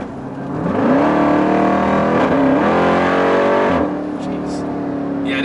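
A Jeep Trackhawk SUV accelerates hard, its engine note climbing steadily through the gears with a shift and then settling into a loud sustained drone, close up, with a voice now and then over it.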